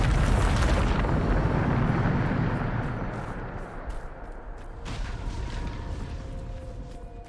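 Hogwarts Legacy's Bombarda spell detonates in a loud, roaring blast that rumbles and slowly fades, followed a few seconds later by a second, smaller explosive burst with crackling debris.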